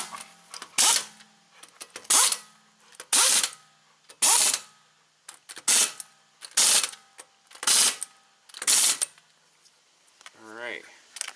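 A ratchet tightens wheel lug nuts on an 09 G6, giving eight evenly spaced bursts of rapid clicking, each about a second apart, close and clear with near silence between.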